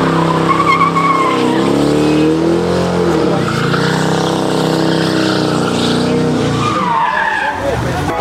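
Cars do burnouts in a parking lot, engines revving hard and tires squealing in long, loud, wavering screeches that swell and fade, with voices faintly mixed in the background.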